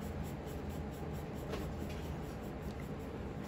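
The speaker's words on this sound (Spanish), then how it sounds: "Voy presionando un poco más el lápiz." Pencil shading on paper, pressed a little harder for a darker tone, gives a continuous soft scratchy rasp, close and steady throughout without pauses.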